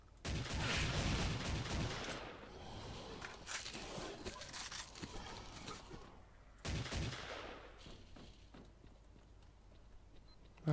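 Bursts of rapid gunfire in S.T.A.L.K.E.R., loud crackling volleys with a short pause before another burst, no talking.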